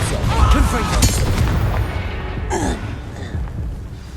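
Confringo blasting spell going off in Hogwarts Legacy, a loud booming explosion amid a dense, rumbling battle din, with a second fiery burst and crackle partway through.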